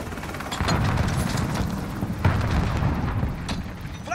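Grenade explosions in the video game Modern Warfare, a Kill Confirmed match on the North Station map: several loud, heavy booms, one after another, within a rumbling, noisy firefight.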